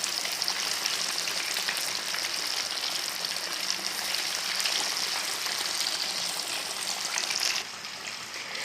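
Lahori masala fish pieces frying in hot oil, a dense, continuous crackling sizzle held loud and close throughout, dropping slightly in level near the end, with no talking.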